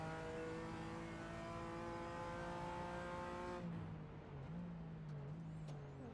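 Onboard a GT4 race car at Circuit Gilles Villeneuve, the engine drones loud and close at a steady high pitch, then drops sharply to a lower, wavering note as the car eases off.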